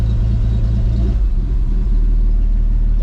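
A Dodge M37 truck engine idles while warming up in cold weather: a loud, close, steady low rumble that stays even for a few seconds with no talk over it.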